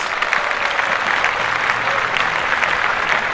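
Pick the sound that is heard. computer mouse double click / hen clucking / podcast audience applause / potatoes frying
podcast audience applause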